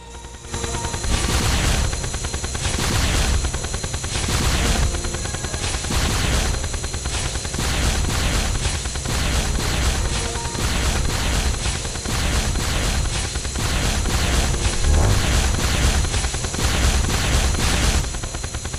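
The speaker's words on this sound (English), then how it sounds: "Emits a continuous beam of exo radiation that disintegrates everything" Photo Viscerator exo beam weapon from Terraria Calamity firing nonstop, a loud, dense, rapid pulsing blast that holds steady for the whole stretch with no talking.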